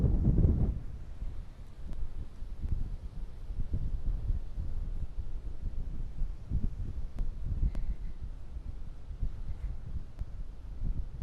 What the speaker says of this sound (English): The wind's going really hard right to left